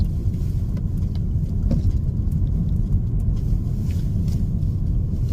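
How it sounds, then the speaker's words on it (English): Big lorries move along tiny, narrow country roads, giving a steady low rumble of heavy engines and tyres that carries on throughout with no talking. "there's some big lorries on these tiny little roads."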